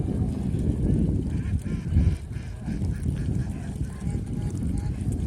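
A flock of domestic ducks on a duck farm quacks and honks continuously at close range over a low, rumbling background.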